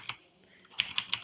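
Several quick, light keystrokes on a computer keyboard, a sparse close tapping of about four clicks with short gaps between them, heard alone.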